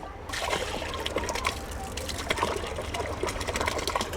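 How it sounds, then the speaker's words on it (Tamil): Water flows out of the outlet of a household biogas digester with a steady, close gushing and trickling. The flow continues throughout, with occasional splashes and no speech. "இது ஊற்றுனா இப்போ ஏற்கனவே ஊற்றிருக்கிற தண்ணி இது வழியாக வெளியில் வரும்"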